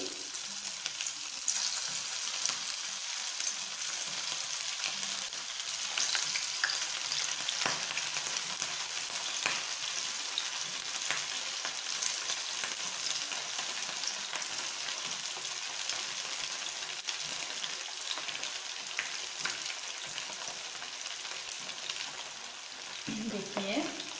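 Rice pakoras deep frying in hot oil in a pan over a medium flame, giving a steady, close sizzle and bubbling throughout with faint speech in the background.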